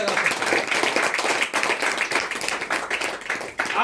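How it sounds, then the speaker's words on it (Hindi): An audience claps together in a dense, steady burst of applause, close and lively, holding through the whole stretch before easing slightly near the end. "आप इसके लिए जोरदार ताली लगा सकते हैं"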